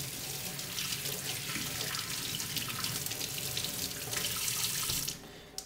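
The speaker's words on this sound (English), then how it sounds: "Just going to rinse off your hands and rinse off your felted wool ball" Tap water runs steadily into a sink as hands and a felted wool ball are rinsed under it, with a broad continuous splash that cuts off near the end.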